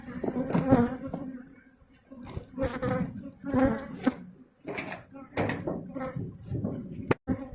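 Honeybees buzz inside a hive being narrowed down, a close droning hum swelling in bursts, with occasional knocks and scrapes of the hive box and someone speaking at times.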